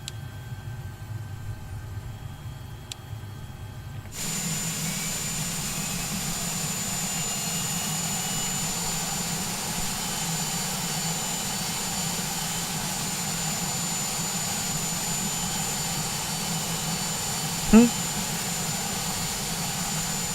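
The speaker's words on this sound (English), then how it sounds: "Back over the top, we'll go for the left engine." The left engine of a Shorts 330 turboprop spins up in Microsoft Flight Simulator 2020. A quiet whine steps up into a steady, droning engine hum that holds for the rest of the stretch, with one brief click near the end.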